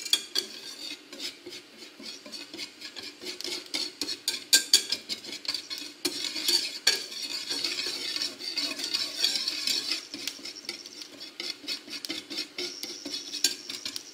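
A roux for a meatball sauce is stirred in a pan, giving a quiet, continuous scraping and swishing with a faint sizzle and irregular light taps of the utensil against the pan; no talking.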